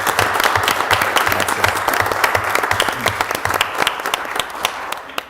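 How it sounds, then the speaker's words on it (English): An audience at a city council meeting applauds staff with sustained, fairly loud clapping, individual claps sharp and dense before thinning toward the end. "I ask that we give you an applause to recognize you."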